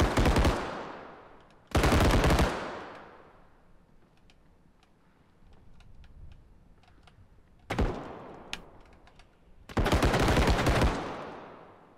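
Loud bursts of rapid gunfire in the first-person shooter game Bodycam, in several volleys, with quieter scattered shots and faint clatter in between, sharp and close.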